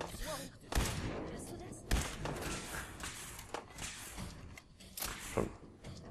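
Several loud gunshots ring out in Fallout 4 survival mode, heavy thumping bursts at uneven intervals with game ambience and softer impacts between them.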